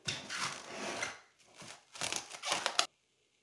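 Plastic cling film crinkles and tears as it is pulled over a fresh pear charlotte, in a few close bursts of crackling before it stops abruptly.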